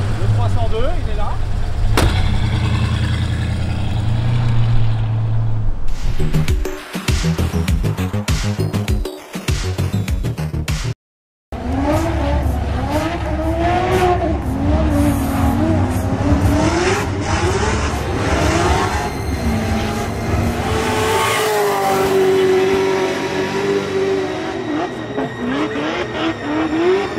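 Ford Mustang 302 V8 at Irwindale: a deep rumbling idle opens, followed by sharp bursts and throttle blips, then a sustained revving roar rising and falling, loud and close, with voices mixed in.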